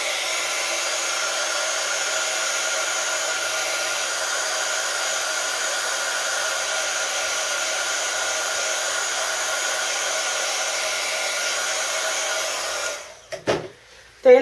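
A hair dryer blows steadily on a stained wood clock, a loud, even whirring roar held close for about thirteen seconds before it is switched off with a few clunks and handling noises.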